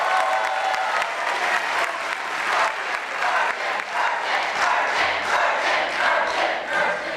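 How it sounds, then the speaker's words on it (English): Sustained audience applause fills the hall at a school awards ceremony honoring student theater, steady clapping from a large crowd with no break for the full stretch. "So a round of applause to Mr. Merchant."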